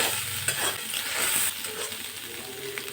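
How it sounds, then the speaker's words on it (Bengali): Soybean chunks fry and sizzle in a pan with salt, a continuous bright crackle with scraping stir strokes throughout, close and fairly loud, no voices. "লবণ দিয়ে সোয়াবিনটা একটু হাতে সময় নিয়ে ভেজে নিতে হবে।"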